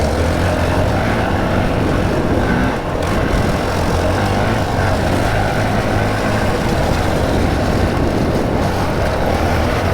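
A 2024 Honda CRF450RL dirt bike engine running in third gear, a steady loud drone with low rumble throughout, heard up close while riding alongside another bike.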